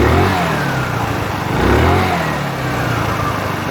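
A 50cc petrol scooter engine being tuned revs up and down close by, rising and falling in pitch through a couple of throttle blips over a continuous buzzing idle.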